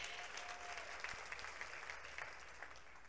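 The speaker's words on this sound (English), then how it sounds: "So this is how meritocracy dies, with muted applause." Subdued audience applause after a speech about women in STEM, a steady wash of many hands clapping at moderate distance, even and unbroken.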